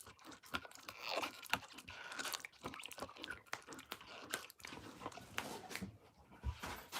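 A dog gnaws on something close by, giving irregular wet crunches, bites and tearing clicks in uneven bursts over several seconds.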